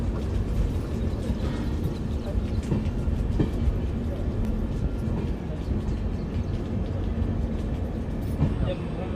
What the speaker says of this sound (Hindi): धीरे धीरे प्रतापगढ़ जंक्शन, मतलब माँ बिल्हा देवी धाम जंक्शन में ट्रेन प्रवेश कर रही है हमारी।